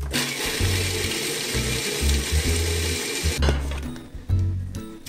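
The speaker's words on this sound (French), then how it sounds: "Je vais y ajouter les 30 g de sucre et on va bien mixer ça." A food processor grinds roasted hazelnuts with sugar into a paste, a loud, steady mechanical whir with rattling, churning blade noise that breaks off briefly near the end and then starts again.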